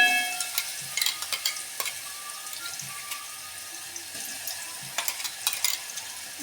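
Ginger-garlic paste hitting hot oil for a spring onion paratha filling, a continuous close sizzle with sharp crackles and pops, sporadic spatula clicks against the pan.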